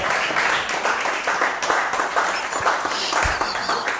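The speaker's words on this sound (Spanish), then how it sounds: "¡Aplausen!" Studio audience applause on a Spanish-language talk show, a steady dense patter of clapping throughout with a brief sharp bump near the end and faint talk beneath.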